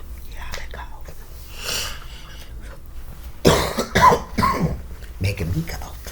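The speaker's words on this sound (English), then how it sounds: "Making me cough" Several harsh coughs burst out close by in quick succession, with people murmuring and talking in the background.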